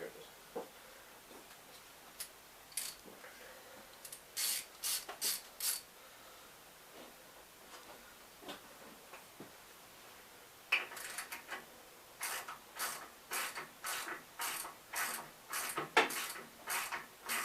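Socket ratchet turning bolts on the fine-thread studs of a 1967 Gravely 430 tractor, heard as quick bursts of dry clicking, sparse early on and then a steady run of close, rhythmic ratchet strokes near the end.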